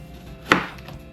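A knife cuts through a tomato on a board with a single short, crisp cut against a quiet kitchen background.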